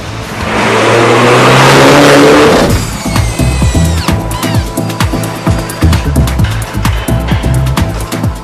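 A Mini John Cooper Works Coupe engine roars up to full revs, then drops into a pulsing, rhythmic throb as the car accelerates hard, loud and close.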